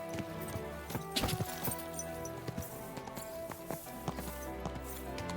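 Horse hooves clip-clop along in the video game Kingdom Come: Deliverance II, a steady irregular patter of hoofbeats over layered game ambience and music, moderately close and alone without talk.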